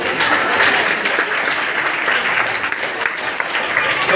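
Applause from teachers at a school farewell ceremony, a continuous steady wash of clapping hands at even loudness, with some voices mixed faintly underneath.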